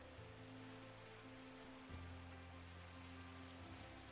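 Steady rain falling in the blocky world of Minecraft, played with the Create mod: a continuous, even wash of droplets at moderate level, with a low droning tone running underneath and no voices.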